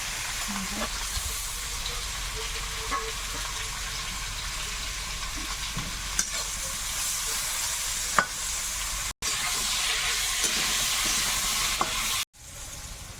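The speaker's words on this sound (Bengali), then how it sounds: "এটাও লবণ হলুদ দিয়ে ভাজবো দুটো কাঁচা লঙ্কা দেবো কুমড়োর মধ্যে" Pumpkin pieces fry in a pan with salt, turmeric and a couple of green chilies, giving a steady close sizzle and hiss with occasional soft stirring clinks that runs nearly the whole time, briefly cutting out twice near the end.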